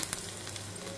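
Curry leaves, cumin and dried red chilli tempering sizzle in hot oil with a steady close hiss and a few sharp pops near the start.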